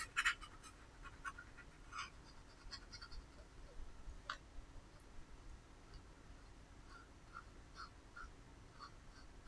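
Watercolor brush laid on its side and dragged across paper to paint a gravelly road texture: faint, close scratchy strokes and light dabs, irregularly spaced, over quiet background hiss.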